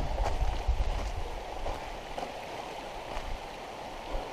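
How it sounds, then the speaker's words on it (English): A forest creek near the falls flows steadily and faintly, a soft continuous rush of water with a few light knocks and splashes mixed in. "the creek is picking up stream."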